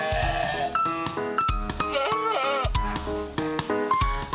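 Goats for sale at a sacrificial-animal market in Jember, some fitted with face masks, bleat repeatedly in overlapping wavering cries, loud and close, with crowd noise underneath.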